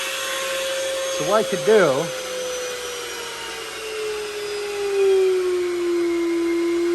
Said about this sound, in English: you can just listen to the output of the vacuum